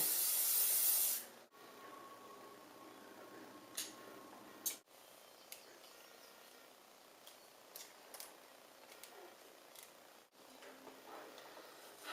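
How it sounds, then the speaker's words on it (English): A can of hairspray is sprayed onto hair in one steady, close hiss lasting about a second, followed by quiet handling and faint clicks of styling. "the first thing I'm going to do is hairspray it before we begin"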